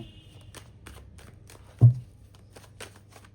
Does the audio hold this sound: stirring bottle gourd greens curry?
no